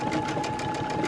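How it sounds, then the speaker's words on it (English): A Brother Dreamweaver sewing machine stitches an appliqué blanket stitch in a steady, rapid mechanical whir with a fast even needle rhythm, loud and close, with no voices. "this is a Brother Dreamweaver"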